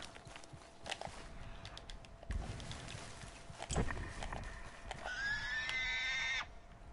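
A horse in the Red Dead Online video game clip-clops along at a steady walk over low ambient background. A bright, wavering whinny rises near the end before cutting off.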